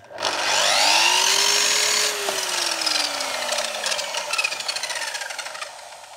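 An electric saw whose blade tilts to 45 degrees switches on with a sharp start and whines up to full speed, runs steadily, then winds down with a falling pitch and a dwindling rattle, close and loud.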